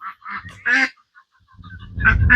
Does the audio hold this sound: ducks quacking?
yes